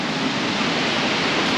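Roar of the Cachoeirinha neighbourhood waterfall in Arapoti, Paraná, a steady dense rushing wash heard close and loud without a break.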